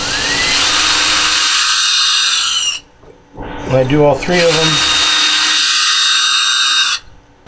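A power drill bores a shallow pilot hole partway into hardwood with a 1/32-inch bit, whining steadily up close for a few seconds, stopping, then running again after a brief pause in which someone speaks.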